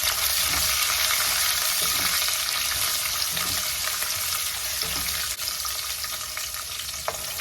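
Green chilies fry in a pan for an upma breakfast, giving a loud, continuous sizzle and crackle with occasional stirring scrapes and one sharp click against the pan, and nobody speaking.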